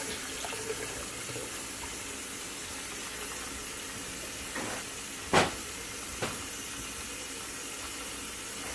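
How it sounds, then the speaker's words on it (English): Water runs from a tap into a container being filled for dyeing yarn skeins, a steady soft hiss throughout with a couple of brief clunks midway. "I'm just going to fill it up with water."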